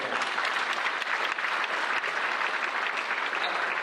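Audience at an operations conference claps together in a dense, continuous burst of applause that stays loud and steady throughout, with no break or voice rising above it.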